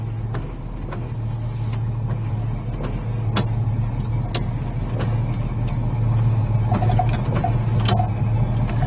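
Windshield wipers run on a 1969 Dodge Charger SE, a steady electric motor hum with regular light clicks and sweeps repeating throughout, heard close inside the car.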